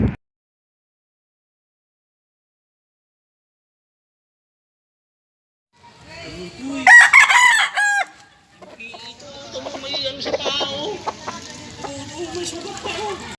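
Chickens and a rooster on a backyard poultry farm: a loud, close cock-a-doodle-doo crow rings out after a long silence, followed by steady clucking and chatter from the flock.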